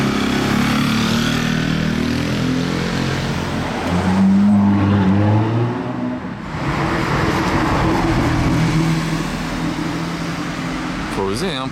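A yellow Porsche Carrera 4S drives by on a Monaco street, its engine rumbling through steady traffic noise and rising briefly in a throaty pass, while someone talks over it.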